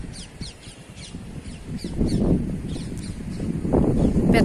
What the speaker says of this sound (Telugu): కిలకిలా రావాలి పక్షులు.